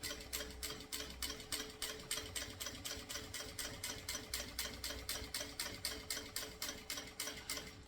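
A sewing machine stitching a backstitch on a small mini backpack, a steady rapid mechanical clatter of even stitches running continuously, close but fairly quiet, with no talking.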